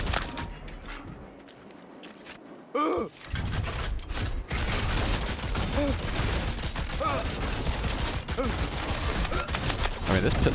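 An automatic-fire pistol shooting in Cyberpunk 2077: rapid, dense bursts of gunfire run continuously for several seconds after a quieter opening, with gasps and vocal sounds mixed in.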